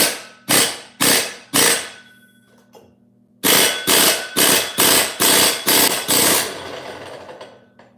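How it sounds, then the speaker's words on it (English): Sharp bursts of a chainsaw engine revving in a shop, three quick blips, a pause, then a rapid run of six or seven more, each cutting off abruptly, with no talking. "Changing sprockets."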